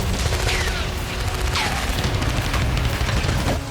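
Gunfire exchange in the West Bank, dense overlapping bursts of shots and booms forming a loud, continuous barrage with some whistling sweeps, no clear speech.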